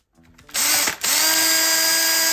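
A power drill fitted with a hole saw spins up with a whine, briefly dips, then settles into a loud steady high-pitched drone. It is close and heard alone.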